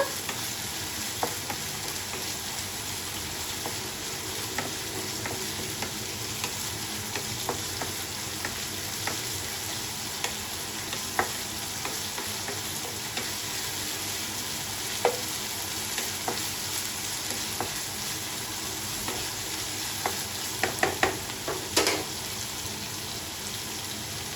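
Small onions and garlic sautéing in oil for a chili chutney give a steady close sizzle with scattered stirring scrapes, and a brief cluster of clinks comes near the end.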